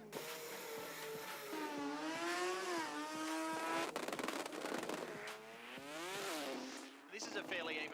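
A rotary-engined Mazda RX3 drag car launches wheels up and pulls through second and third gear, a loud rising engine wail with shifts under an excited commentator's voice.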